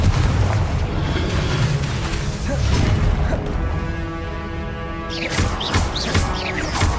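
Confringo and Incendio spells cast in the video game Hogwarts Legacy crackle and roar, producing dense booming blasts and fiery bursts that keep sounding without a break. A sharp new explosion hits near the end.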